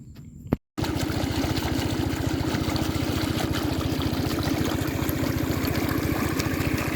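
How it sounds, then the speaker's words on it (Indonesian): Water rushes steadily out of a fish pond pump outlet, a loud continuous gushing with a rapid pulsing churn, briefly cut at the start before flowing on unbroken. "air yang keluar yang kita pompa itu derasnya"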